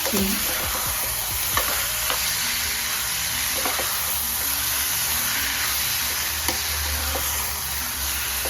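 Mutton keema with salt and turmeric is stirred and sautéed in a pan, a steady close sizzle with soft scraping and occasional spoon knocks against the metal throughout, no talk.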